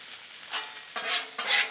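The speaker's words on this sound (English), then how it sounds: "we're just gonna come in here and baste up this steak in this butter" Butter sizzling around a tomahawk steak on a Blackstone griddle, a close hiss that swells in three rising surges as the steak is basted, with no talking.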